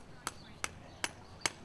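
Hammer driving a nail into a horseshoe while shoeing a horse: four sharp metallic strikes at an even, unhurried pace, clear and close.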